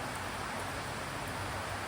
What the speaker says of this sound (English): Can't see the rain, but it is coming down reasonably heavily.